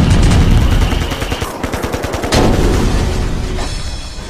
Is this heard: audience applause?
no